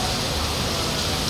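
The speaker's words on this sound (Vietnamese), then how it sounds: "Đó, cả nhà thấy mưa không?" Heavy rain pouring down during a downpour at the end of the year, a dense, steady hiss that fills the scene without pause.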